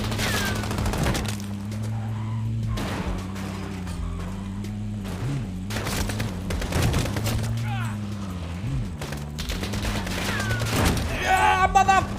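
Video game gunfire in bursts of rapid shots and heavy booms, loud and nearly continuous throughout, with excited voices shouting over the shooting.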